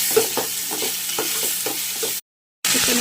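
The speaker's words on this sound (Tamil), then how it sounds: "வெங்காயம், கொஞ்சம் செவந்துடுச்சு. தக்காளி சேர்த்துக்கலாம்." Onions browned in a pan for South Indian chicken pepper gravy sizzle steadily, with tomato going in and a spoon scraping the pan in a regular rhythm of strokes, close and fairly loud, before a brief total dropout and then the sizzle resumes.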